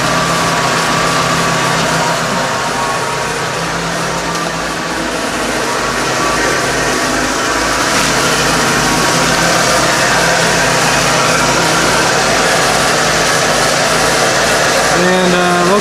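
A 1995 Ford F-250 4x4 engine idles while warming up after an oil change, a loud, steady low rumble that holds an even pitch throughout with no pauses.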